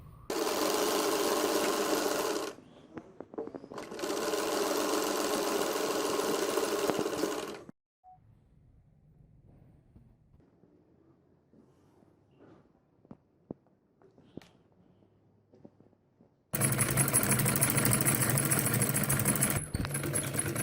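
A sewing machine stitching the hem channel of an embroidered trouser leg runs in loud, steady bursts, two runs early and one more near the end, with quiet light clicks and fabric handling between them.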